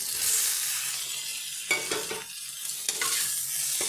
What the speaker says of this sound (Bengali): এবার সয়াবিনগুলো ভালো করে নেড়ে চেড়ে মিশিয়ে দিচ্ছি